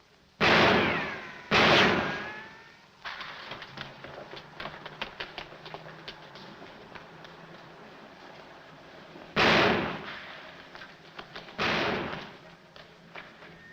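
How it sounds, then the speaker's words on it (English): Gunshots fired at a fleeing man in a 1947 film scene: two loud sharp reports near the start, then two more around the nine- and twelve-second marks, with softer clattering background sounds in between. "Hey, stop or I'll shoot!"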